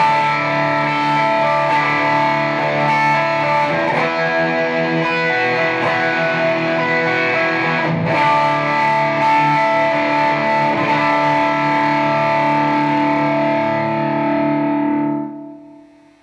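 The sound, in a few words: electric guitar chords through TC Electronic Dark Matter distortion pedal, gain maxed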